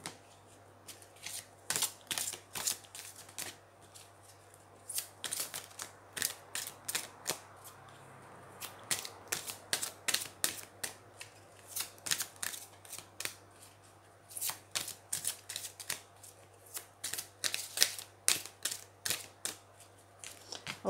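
A deck of tarot-style cards is shuffled and cut by hand in repeated quick riffles and flicks, crisp and close, in rhythmic bursts separated by short pauses over a faint low hum.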